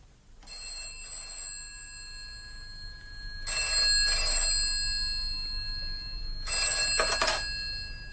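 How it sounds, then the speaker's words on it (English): A telephone rings in a 1977 radio drama: three loud, bright bursts of bell ringing with short pauses between them, alone with no voices. "he had a phone call"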